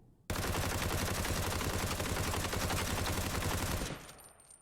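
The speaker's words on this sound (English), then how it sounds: "I'm just going to fire so you can see what the actual recoil for the gun is." Rapid automatic gunfire in the Ring of Elysium video game, a loud unbroken burst of shots lasting about three and a half seconds, then cutting off into a faint fading tail; no talking.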